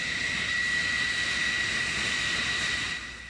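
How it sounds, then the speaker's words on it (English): A jet aircraft launches from an aircraft carrier's catapult, giving a loud, sustained jet engine roar with a high whine that holds steady, then eases off slightly near the end. "Another launch, airplanes leaving the cat again."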